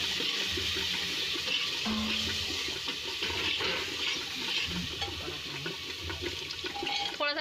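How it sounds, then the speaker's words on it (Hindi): About half a glass of water poured into a turmeric masala while cooking shahi paneer, a sustained rushing splash and trickle that runs the whole time at moderate loudness. "पानी डालेंगे 1/2 गिलास"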